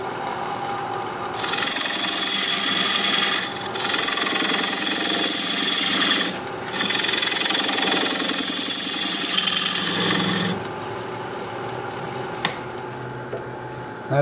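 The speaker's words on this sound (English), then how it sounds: "Now I'm going to use this diamond point tool to square up the sides of the tenon." Wood lathe turning a log bowl while a diamond point tool squares the sides of the tenon, a loud steady grinding buzz that cuts off briefly several times and then resumes, close and continuous.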